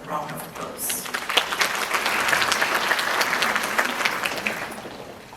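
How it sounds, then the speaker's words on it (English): An audience at a teachers' convention breaks into applause to welcome a speaker, starting sparse and quickly swelling into a steady, sustained round of clapping from a sizable crowd. "let's bring him on with a round of applause."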